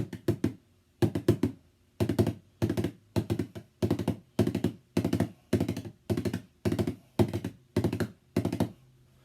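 Bodhran descending roll triplets struck with one end of the tipper, a dozen or so short, snappy clusters of close, dry drum thumps repeated at an even pace with brief gaps between.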